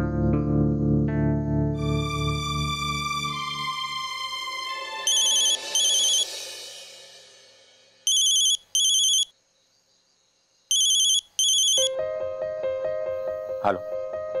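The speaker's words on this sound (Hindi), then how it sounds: "हाँ मन, मैं तुम्हारा ही फोन एक्सपेक्ट कर रहा था" A telephone rings in short repeated electronic bursts, two pairs of trilling rings separated by a pause, following a swelling musical sting and giving way to a new background tune.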